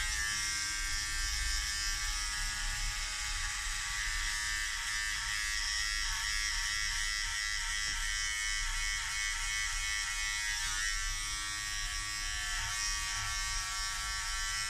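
An electric hair clipper set to half length trims a beard, giving a steady, close, continuous high-pitched buzz throughout, with small shifts in tone as it moves through the hair.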